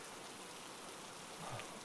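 Rain falling steadily in a soft, even hiss with no break, faint and close-sounding, with a few slightly brighter patters near the end and no voices.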